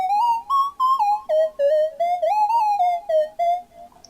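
A silly, whistle-like synth plays a bouncy counter melody, a string of short pitched notes that slide up and down in a steady rhythm, close and clear with no talking over it.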